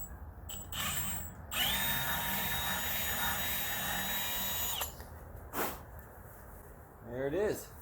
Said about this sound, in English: Drilling through my nice new rim.